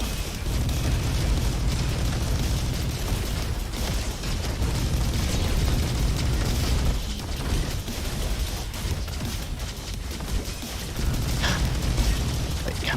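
Turrets get destroyed in a video game amid a dense, continuous wash of explosions, booms and mechanical clatter, with sharp bursts popping over a loud rumbling bed throughout.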